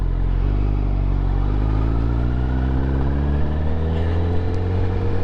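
A 2023 Honda CBR1000RR sport bike engine drones steadily and loudly for the whole stretch, its rising harmonics showing the revs slowly climbing as the rider pulls away. No one speaks.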